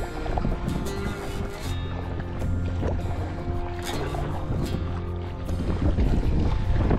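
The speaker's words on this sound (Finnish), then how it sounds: "Nyt on kova vastatuuli." A strong headwind roars past the microphone while canoeists paddle on a lake near Mäntyharju, with choppy water slapping against the boat, a continuous blustery rumble throughout with no talk.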